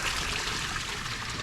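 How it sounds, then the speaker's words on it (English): Water pumped by an M98 sump pump runs through a 1.5-inch drain pipe in a trench drain system, a steady hissing trickle and gush that holds constant, close and moderately quiet, with no talking. "Look how fast that M98 takes that water out of there."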